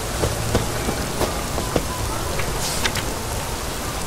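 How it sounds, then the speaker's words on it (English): Steady rain pours down in The Witcher 3, a dense broadband wash of falling drops with scattered sharper droplet ticks, continuous and fairly loud throughout with no voices. "It just rains and rains."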